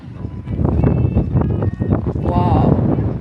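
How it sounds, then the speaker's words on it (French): Strong wind on Mykonos buffeting the microphone in a steady roar, with a person talking over it throughout. "il y a beaucoup de vent, j'espère que vous m'entendez correctement"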